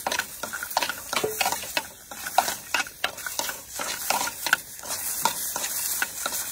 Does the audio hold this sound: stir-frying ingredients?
yes